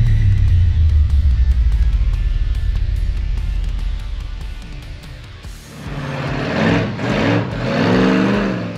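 A 12,000-pound monster truck at a corporate motorsports retreat, its big engine roaring loudly at high revs, then dropping and surging again in rising and falling revs, close and without talk.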